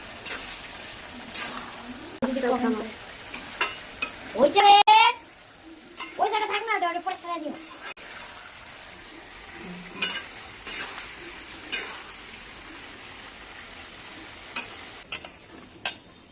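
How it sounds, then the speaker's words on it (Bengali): Fried potatoes being stirred in a wok, with soft scraping and a faint sizzle coming in short bursts, under intermittent talk from a voice. "ভেজে রাখা আলুগুলো কড়াইয়ের ঢাকনা ফেলে একটু নেড়ে নিচ্ছি ভালো করে"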